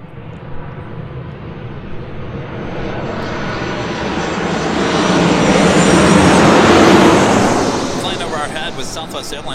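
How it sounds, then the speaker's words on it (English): An Emirates Airbus A380 takes off on a north side departure, its loud, broad jet roar swelling steadily to a peak about two-thirds of the way through before starting to ease. "Emirates A380 Super. We'll be heading up here for a north side departure as well"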